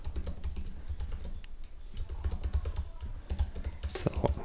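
Rapid clattering keystrokes on a computer keyboard while a website headline is typed in Figma, steady close-up tapping with brief pauses and no talking.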